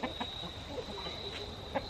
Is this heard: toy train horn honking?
no